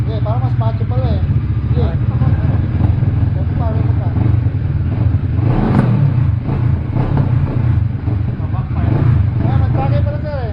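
A CF Moto 650 motorcycle with its silencer removed runs loud and raw throughout, a heavy low engine rumble with rising rev swells, while people talk over it.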